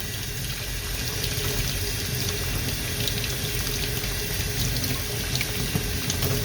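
Tap water runs steadily into a sink while an HP Photosmart inkjet printhead is rinsed, a constant close splashing hiss with faint irregular drips and no talking.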